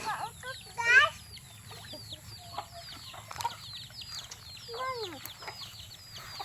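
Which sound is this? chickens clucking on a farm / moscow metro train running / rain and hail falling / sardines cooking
chickens clucking on a farm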